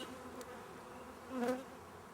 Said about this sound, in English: There are an enormous amount of bees in the hive